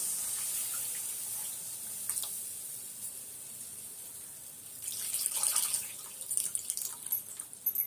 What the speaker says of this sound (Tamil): இப்போ அதை கரைச்சி வச்சிருந்த புளியை வந்து இதில் ஊற்றிக்கலாம்